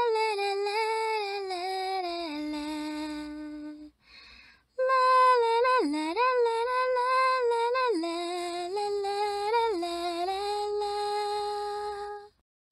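A woman sings an Estonian pop song from the 1996 Eurovision contest, a clear solo vocal line with strong vibrato and sliding pitches. There is a short pause partway through before she continues just as loudly.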